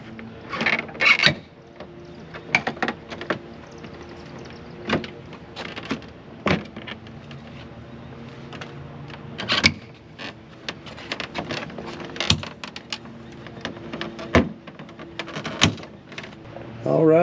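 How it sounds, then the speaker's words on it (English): Plastic clips of a GMC Yukon Denali grill shell pushed into the bumper cover, producing a series of sharp snaps and knocks scattered irregularly among rubbing and handling noise, with someone talking. "And all these clips are going to go right in to the bumper cover."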